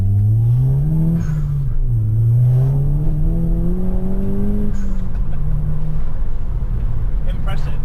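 An understated sleeper car accelerates hard on a test drive, its engine loud and close. The engine note climbs and drops through gear changes into a steady, rising roar.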